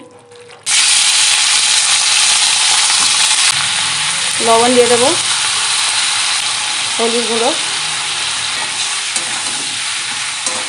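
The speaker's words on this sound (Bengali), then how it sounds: "দেখুন মুরগির ছাঁটগুলো আমি ভেজে নেব" Chicken scraps frying in hot oil, a loud, continuous close sizzle that begins abruptly and holds steady while a person talks over it briefly.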